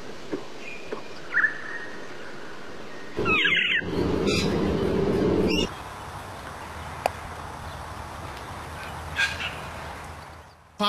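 A honeyeater sings, mimicking other birds: varied squawks, chirps and whistled phrases come in short bursts, some loud and close, between stretches of quieter ambient background.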